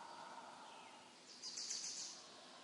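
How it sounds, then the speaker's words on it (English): Forest ambience from the game Bejeweled 3, a faint, soft background bed with a brief burst of high chirping, like birds or insects, partway through, with no talk. "we have the sound of a forest"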